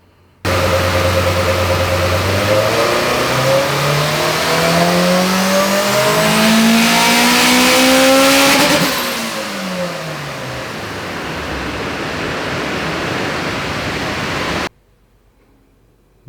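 A turbocharged Honda engine on a dyno pulls hard through rising revs in stepped climbs, loud and continuous, then drops back after the peak to a lower steady drone before cutting off abruptly.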